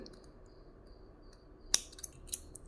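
Scissors snip through yarn while trimming a tassel for a baby's knitted decoration, giving a sharp close click followed by two or three lighter snips over quiet room tone.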